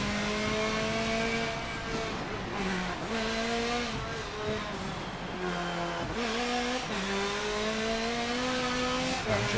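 Racing car engines rev and shift through gears in Forza Motorsport 7, steady loud engine drone with repeated rising pitch sweeps, plus tire noise, continuous throughout with no talk.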